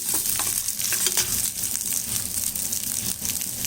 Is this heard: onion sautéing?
yes